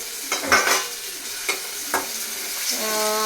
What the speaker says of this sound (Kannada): ಈಗ ಟೊಮ್ಯಾಟೊ ಹಾಕ್ತಾ ಇದ್ದೀನಿ